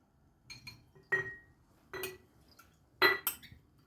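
Yogurt spooned into three glass jars, with a few sharp clinks of a spoon against glass in uneven bursts, close and clear in an otherwise quiet room.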